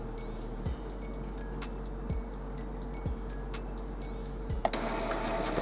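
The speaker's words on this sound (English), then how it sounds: "Now from here, we'll hear our printer making a lot of noise, chucking backwards and forwards, as you can probably hear now." An Epson Expression Home XP2100 inkjet printer runs a print head cleaning cycle, giving a steady mechanical whir with a few sharp clunks and ticks spaced about a second apart, close and alone.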